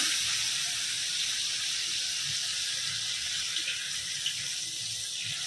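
Water poured into a cooking pan of spices for a mustard hilsa curry, a steady hissing, splashing stream running throughout at moderate volume with no talk.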